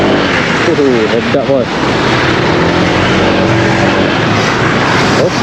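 A 2022 Honda Vario 160 ABS scooter being ridden, its engine drone and wind rush loud and continuous up close, while the rider talks over it.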